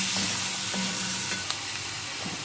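Half a kilogram of chicken pieces frying in hot oil in a karahi, a loud, continuous close-up sizzle with occasional faint clinks and stirring, no voices present.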